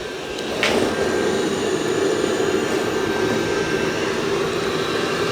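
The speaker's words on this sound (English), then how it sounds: "now it's going to go vacuum carpet by itself" Dreame L20 Ultra robot vacuum running over carpet, a steady loud whirring suction drone that holds constant throughout after a brief rise at the start.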